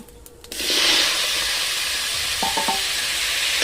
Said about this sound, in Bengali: এবার আলুটাও দিয়ে দিচ্ছি।